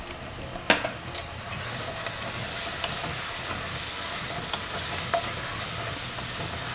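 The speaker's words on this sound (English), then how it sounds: "I'm not gonna fry the onion all the way. Just a bit." Onion frying with turmeric in a pan, a steady sizzle with occasional scraping knocks as it is stirred, close and moderately loud.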